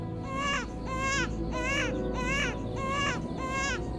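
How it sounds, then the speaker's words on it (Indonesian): A newborn baby cries in a repeated pattern, about six short wailing bursts at an even rhythm, loud and close over a steady low background hum. "Sampai menjelang subuh, baru terdengar suara tangisan bayi."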